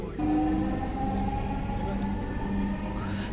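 A metro rail train on MRT Line 6 at Mirpur 11 station during the morning rush fills the platform with a loud, steady rumble and humming tones, with people talking under it.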